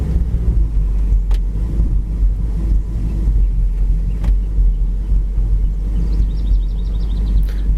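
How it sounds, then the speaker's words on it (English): A 1967 Pontiac Firebird convertible idling, a steady low engine rumble held close and even throughout, with a couple of faint clicks and a brief high whine near the end, no voices. "Motor sounds great."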